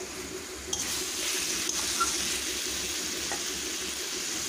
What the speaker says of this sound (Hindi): चिकन को ऐड करने के बाद ऐसे ही 2 से 3 मिनट तक भूनना है चिकन को।